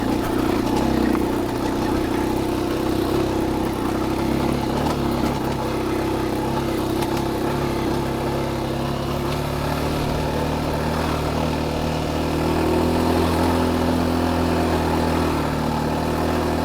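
An adventure motorcycle picks its way through a rocky trail section, its mid-pitched engine droning steadily at low revs with small throttle swells, continuous and close.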